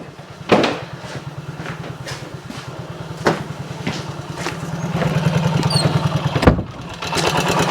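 A small single-cylinder engine on a 1964 Honda CT90 motorcycle idles with a fast, steady putter, punctuated by a few sharp clicks and knocks, its pace rising slightly toward the end.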